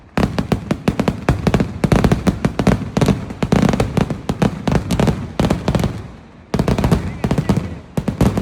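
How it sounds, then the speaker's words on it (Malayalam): A dense, loud barrage of firework explosions at the Uthralikavu temple festival cracks in rapid, overlapping bursts, with one brief lull before the blasts resume. "അങ്ങനെ നമ്മുടെ വൈകുന്നേരത്തെ വെടിക്കെട്ട് കഴിഞ്ഞു."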